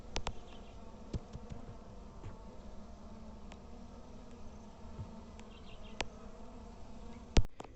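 Honeybees buzzing steadily around a beehive outdoors, a continuous close hum with a few brief knocks and clicks over the top.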